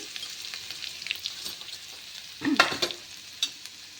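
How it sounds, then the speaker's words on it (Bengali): Potatoes fry in oil in a pan, with a soft, steady sizzle broken by a few sharp scraping stirs near the end, close by and without any voices. "আর এইখানে দেখো আলু ভাজা হচ্ছে।"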